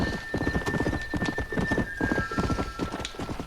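A horse gallops fast in Red Dead Redemption, its hooves pounding in a rapid, driving rhythm that stays loud and close throughout, with a steady tone running beneath.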